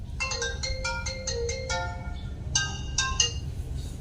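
A telephone rings with a bright electronic ringtone, a quick run of repeated melodic beeps followed by a short pause and another burst, heard over a low background hum.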